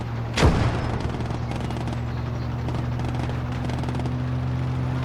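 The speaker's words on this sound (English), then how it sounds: "Now, we've seen a plane coming." A plane sweeps past overhead in the WWII strategy game Call to Arms: Gates of Hell Ostfront, a loud rising-then-falling roar around the half-second mark over a steady battlefield rumble and hum.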